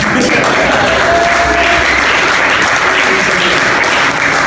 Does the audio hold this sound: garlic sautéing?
no